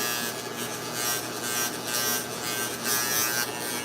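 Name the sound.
electric hair clippers with 3/8 guard trimming hair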